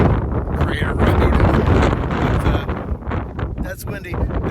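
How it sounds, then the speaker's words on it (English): Strong wind at the end of a volcano crater road on Hawaii's Big Island, buffeting the microphone in loud, gusty rumbling bursts with faint rustling, continuous throughout. "It's incredibly windy down here at the very end of"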